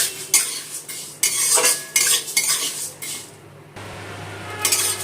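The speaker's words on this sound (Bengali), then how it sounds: "মশলাটা একটু নেড়ে চেড়ে ভেজে নেব।" Spices with carom seeds being stirred and fried in a pan for mixed raw mango pickle, with loud repeated metal scraping and clinking of a spoon against the pan over a soft sizzle.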